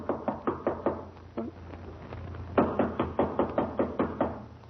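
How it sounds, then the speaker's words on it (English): Knuckles rap on a door in quick bursts of about five close, hollow knocks, a pause and a single knock, then a louder, more insistent run of knocks, over a faint low hum with no talk. "Well, try knocking."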